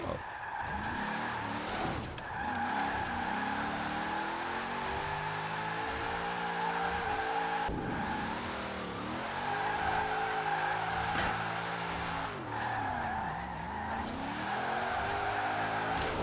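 A car drifting in the Forza Horizon 4 racing game makes a steady engine drone that rises and falls through gear changes, with faint tire squeal layered over the continuous revving.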